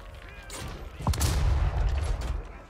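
An artillery shot fired in the video game Total War: Warhammer III, a loud booming blast about a second in with rumbling low end and crackling battle noise before and after.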